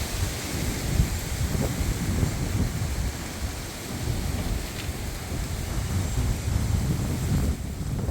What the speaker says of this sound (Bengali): অনেক বাতাস আর মনে হচ্ছে যে ঝড় তুফান আসবে